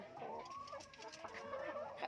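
Chickens clucking at close range, a few short rising and falling clucks in quick succession, fairly quiet with no talking.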